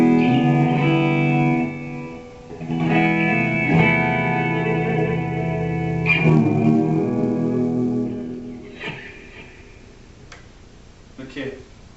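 Sustained chords from an Ibanez JS1000 electric guitar ring out with a lush amp reverb tail, a few sharper strums near the end fading into the wash.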